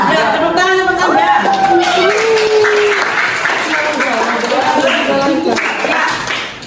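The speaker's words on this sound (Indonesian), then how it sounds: "Ya, tepuk tangan untuk Anda." A classroom of students claps for a classmate, dense and close, while several voices talk and call out over the clapping before it thins toward the end.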